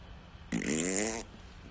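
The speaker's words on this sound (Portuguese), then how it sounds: "alguém soltou um pum barulhento" A loud cartoon fart sound effect in a narrated children's story, one sustained, buzzing, wobbling blast lasting under a second, standing out sharply against quiet background.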